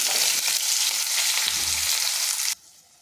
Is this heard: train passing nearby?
no